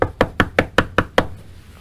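Seven firm, evenly spaced knocks on a house door ring out close and crisp, then the sound stops and leaves a brief quiet tail.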